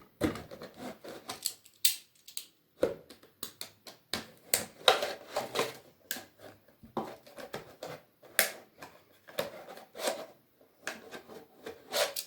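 Scissors snip through fabric pieces for a patchwork elephant craft at a table, a run of short, crisp cuts and rustles in irregular bursts, close by with no talking.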